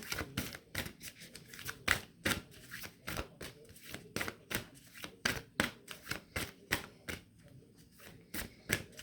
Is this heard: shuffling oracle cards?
yes